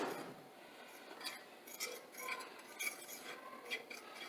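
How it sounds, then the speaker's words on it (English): Seasoned flour, heavily peppered, is mixed in a dish with a utensil, giving faint, close scraping and light clinks in a steady, quiet rhythm with no talking. "now that your flour is seasoned, I'm going to mix that up"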